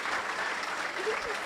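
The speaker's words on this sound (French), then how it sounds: "Un fort applaudissement" Steady applause from an audience at a year-end graduation ceremony of an engineering school, a dense even patter of many hands clapping throughout, moderately loud with faint crowd murmur beneath.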